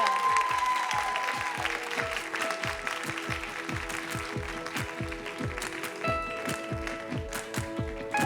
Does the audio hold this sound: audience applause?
yes